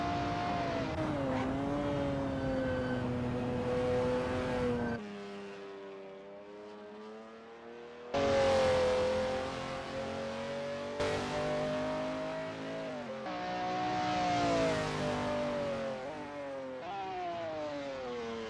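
A McLaren F1 GTR race car engine at Sonoma Raceway Long Circuit in a racing game, loud and close, revving up through gears with falling pitch at shifts, sharp jumps in revs and a brief quieter lull midway.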